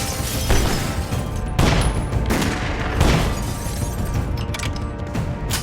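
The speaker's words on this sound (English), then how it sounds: "Gunfire erupts, deafening in the quiet night." Film-scene gunfire at night: several sharp, loud shots and crashing bursts ring out in quick succession over a dense, rumbling action soundtrack.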